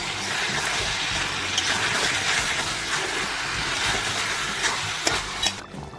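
Raw jackfruit pieces and potato frying in a pan for an echor chicken curry, giving a steady, close broadband sizzle with faint stirring scrapes, unbroken for the whole stretch with no voices.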